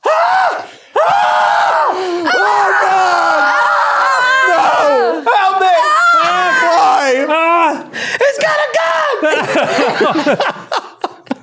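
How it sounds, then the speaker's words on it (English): Podcast hosts scream loudly and in long, wavering bursts, several voices overlapping, breaking into groans and chuckling laughter toward the end. "we're going to open this one with screaming"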